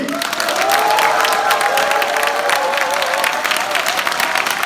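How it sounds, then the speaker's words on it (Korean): A university vice president is welcomed at a civic visit event with sustained crowd applause and a few cheers, while a voice talks over the clapping at moderate volume. "시장님보다 부총장님 박수가 더 컸던 거죠"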